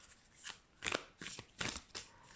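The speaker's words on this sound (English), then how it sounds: "I'm gonna shuffle some cards." Tarot cards being shuffled in a handful of quick, soft riffling bursts, close and quiet, with brief pauses between each.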